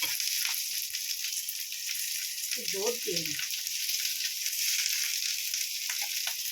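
Cauliflower paturi frying in oil in a covered saucepan, a steady loud sizzle and crackle throughout, with a brief voice speaking over it midway.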